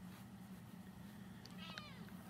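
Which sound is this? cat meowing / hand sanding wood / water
cat meowing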